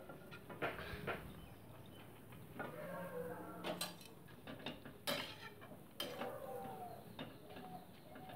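Chopped pea greens being stirred into a cooking pot, giving a run of close scraping clinks and knocks of a utensil against the metal, irregular and spaced through the stretch with faint kitchen background.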